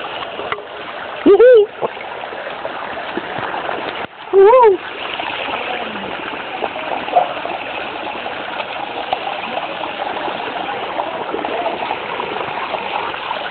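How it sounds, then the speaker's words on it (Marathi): Water flows at Rajgad fort, a steady close rush and splash filling the whole scene, with a couple of short voice-like calls rising over it early on. "मस्त इथला आवाज पाण्याचा"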